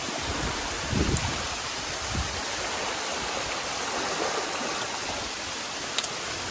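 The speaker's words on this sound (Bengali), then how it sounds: "তার মধ্যে দেখো বৃষ্টি হচ্ছে" Rain falls in the Sundarbans jungle as a dense, continuous hiss that stays steady and fairly loud, with a few soft low thumps and no voices.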